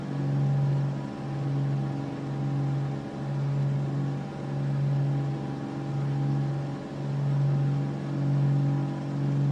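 Steady propeller aircraft engine drone in Microsoft Flight Simulator 2024, held at a constant mid-pitched hum with slow, gentle swells in loudness as the RPM is eased back during a cruise at 4,500 feet.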